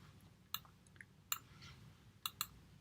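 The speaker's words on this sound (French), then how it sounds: "Fermeture de la pince." A robot gripper closes on a workpiece, giving a few sharp, faint mechanical clicks spaced irregularly over a quiet background hum, with no speech.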